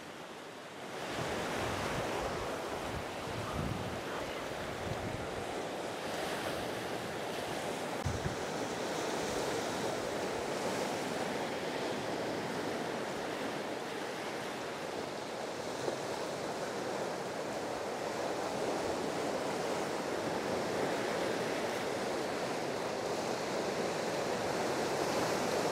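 Ocean surf rolling onto a beach, a steady loud wash of breaking waves with wind buffeting the microphone throughout, and no voices.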